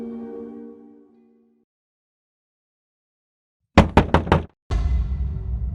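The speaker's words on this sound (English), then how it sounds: "The parents heard a knock on their door." A door is knocked on at night: four quick, sharp raps, then a louder rumbling thud after a moment of silence.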